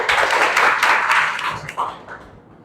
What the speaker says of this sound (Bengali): সিয়ামের জন্য একটা হাততালি।